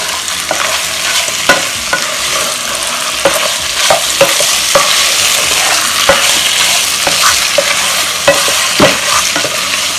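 Chicken pieces sizzling steadily in a hot pan while a spoon stirs them, with repeated scraping taps over a constant frying hiss and no voices.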